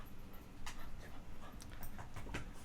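Dogs panting indoors in a home, a soft rhythmic breathy panting close by with faint whimpers, fairly quiet against room noise and no talking.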